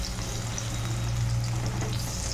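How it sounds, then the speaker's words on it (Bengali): Pumpkin flower fritters coated in gram-flour batter fry in hot oil, giving a steady, close, even sizzle with no talking. "দেখো আমি বেসনের বড়াগুলো সব ছেড়ে দিয়েছি, এবার ভেজে নেব"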